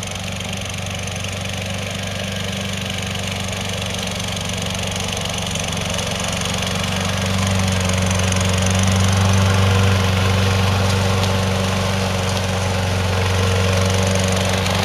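A twelve-year-old remote-controlled lawn mower's engine runs steadily, a continuous mid-pitched drone with a low rumble that swells slightly louder partway through, with no voices.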